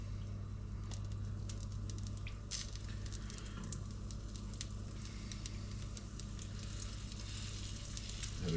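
Flour-coated fish sizzles and crackles steadily in hot oil at medium heat, a continuous close frying hiss with scattered pops throughout.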